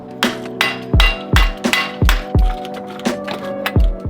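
A hammer pounds a Mazdaspeed3 axle to free it from the spindle, giving about eight sharp metallic strikes in an uneven rhythm, each ringing briefly, loud and close with no talking.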